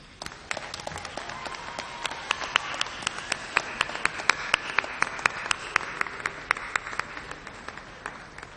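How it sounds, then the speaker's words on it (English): An audience at a 2018 commencement ceremony applauds the graduates' supporters, a soft, scattered patter of clapping with individual sharp claps standing out, heard from a distance. "welcome them with a round of applause"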